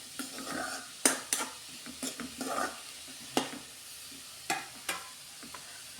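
Long beans toran stirred in a pan, a light sizzle with scattered spatula scrapes and taps against the pan, close and moderately quiet, no speech.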